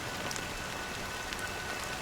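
Steady rain falling on a surface, a continuous even hiss of drops with a few brighter patters, close and moderately loud, no voices.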